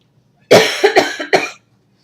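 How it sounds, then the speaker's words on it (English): Three sharp, close coughs in quick succession, loud and alone against near silence. "Sorry, I'm coughing."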